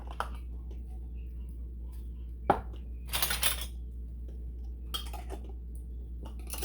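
Glass canning jars and their metal lids handled while being closed finger-tight before pressure canning, giving a sharp clink near the middle and a brief burst of clattering, with a couple of softer knocks over a low steady hum.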